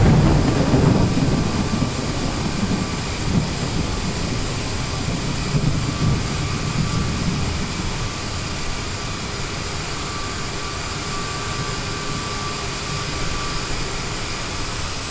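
Aerosoft CRJ 550/700 regional jet taxiing toward the runway in a flight simulator game, a loud, steady jet engine hum and whine that settles slightly after the first few seconds.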